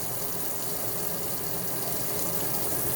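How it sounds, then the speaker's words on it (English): Water runs steadily from a tap, a constant faint hiss and gush that holds level for the whole stretch, with no voices. "This is running water,"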